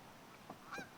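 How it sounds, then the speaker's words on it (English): Geese honk near a lake while fishing is under way, two or three faint, distant calls over quiet outdoor background. "Lots of geese."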